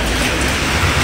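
Heavy rain pours down hard and continuously in a dense, loud hiss, drumming on surfaces close by with no gaps.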